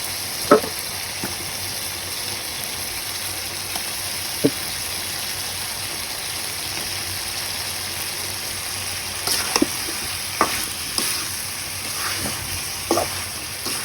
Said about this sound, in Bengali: আলু আর মাংসগুলোকে একসাথে নেড়ে চেড়ে ভালোভাবে কষিয়ে নিয়ে কতক্ষণ